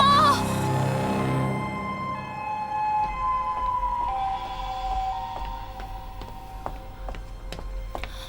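An ambulance siren wails during a household medical emergency, a steady tonal wail that holds level through the clip with faint voices and room noise around it.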